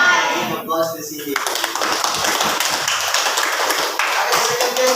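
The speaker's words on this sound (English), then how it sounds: "Give applause to Cindy." Classroom students clap for a classmate, a dense burst of many hands filling the room after a brief voice, continuing steadily.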